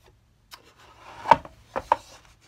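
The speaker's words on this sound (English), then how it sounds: "now this neck will just slide to the spot here" A guitar neck slides into place on a Black Beauty guitar, giving a few short, close wooden rubbing and knocking sounds with brief scrapes and no talking.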